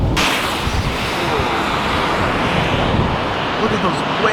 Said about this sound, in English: Look at those waves. This is crazy.